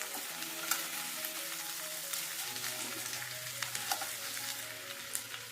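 Tandoori chicken frying in a pan, a steady close sizzle with faint crackles and occasional utensil clicks as the pieces are turned, low in level with no talking.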